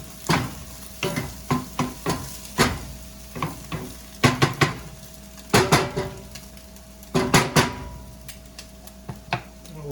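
Eggs cooking in an iron skillet: a constant close sizzle with repeated sharp metallic scrapes and taps of a utensil against the pan, coming in quick clusters.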